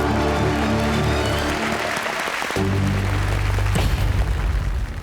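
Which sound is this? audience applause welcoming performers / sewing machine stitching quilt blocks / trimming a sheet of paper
audience applause welcoming performers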